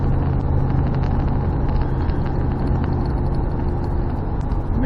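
A Dodge Dakota truck cruising along a road at speed after a rack and pinion installation, with a steady, loud drone of engine and road noise running unbroken throughout and no talking.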